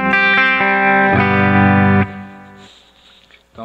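A clean electric guitar played through a compressor, preamp, cabinet simulator with IR, and a delay-reverb pedal rings out in strummed chords, then decays into a reverb tail before a faint new note starts.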